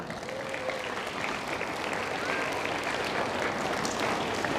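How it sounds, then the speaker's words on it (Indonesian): A church congregation applauds, steady dense clapping heard from a distance as a continuous wash with no voices rising above it. "Tepuk tangan."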